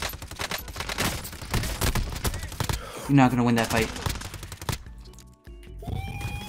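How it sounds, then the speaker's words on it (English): Video game gunfire in an online shooter: dense bursts of rapid automatic fire and scattered shots, loud and nearly continuous, with a few distinct metallic hits, under excited players talking over voice chat. "You're getting shot from behind."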